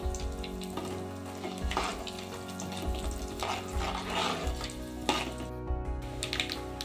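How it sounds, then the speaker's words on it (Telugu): Urad dal, chana dal, cumin and mustard seeds frying in hot oil for tempering, a steady close crackling sizzle with scattered pops and faint stirring scrapes throughout. "ఈ పోపు దినుసులన్నీ చక్కగా ఫ్రై అయ్యేటట్టు ఫ్రై చేసుకోవాలి."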